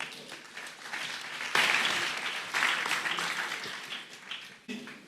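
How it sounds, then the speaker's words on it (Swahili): An audience at a talk by a member of parliament breaks into applause in several swelling bursts of clapping. "Unaweza keti tuwapigia makofi."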